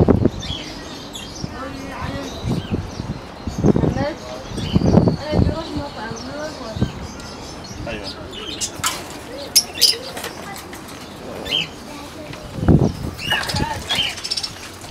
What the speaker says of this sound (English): All right, this is the hawk market.